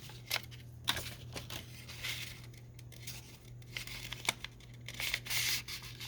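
A paper junk mail envelope being folded and pressed by hand, with soft rubbing, crinkling and scraping strokes close up and fairly quiet, no talking.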